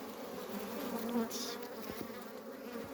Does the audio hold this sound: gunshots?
no